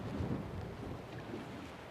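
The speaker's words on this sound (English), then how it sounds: "It's pretty windy." Wind buffeting a boat at sea during bottom fishing, a steady low rumbling roar with no pauses and no talk.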